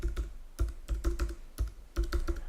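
Keys on a computer keyboard clack in quick irregular bursts as a serial number is entered, close and crisp, with short pauses between clusters of strokes and no voices.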